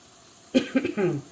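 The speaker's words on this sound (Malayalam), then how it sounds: "ചുമച്ച് തുടങ്ങി ഞാൻ മുളകിൻ്റെ കുത്തലൊക്കെ, പച്ചമുളകിൻ്റെ മുളക് പൊടിയുടെയൊക്കെ കുത്തൽ വരുന്നുണ്ട്" A short burst of close coughing, three or four rough hacks in quick succession, from a cook irritated by chili pungency while preparing puli inji curry, faint room quiet before it.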